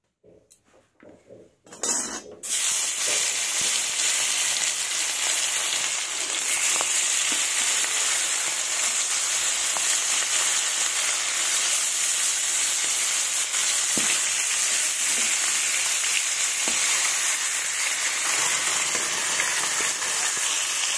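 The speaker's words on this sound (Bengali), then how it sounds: "মাছগুলো দিয়ে দিচ্ছি, এবার কিছুক্ষণ ভেজে নেব লাল লাল করে।" Fish pieces drop into hot mustard oil in a wok, and after a brief quiet start a loud, steady crackling sizzle fills the rest of the clip without letting up.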